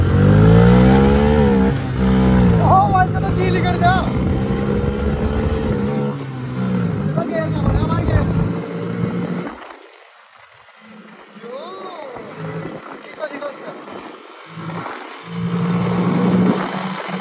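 A Bajaj Freedom 125 CNG motorcycle runs on CNG with engine drone and revving throughout, loud at first, dipping briefly mid-ride, then rising again, with people talking over it.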